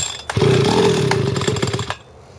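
A small scooter engine fires up with the choke on and runs rough and buzzy for about a second and a half, loud and close, then cuts out abruptly into quiet.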